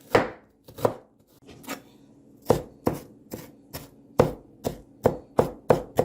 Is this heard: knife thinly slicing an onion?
yes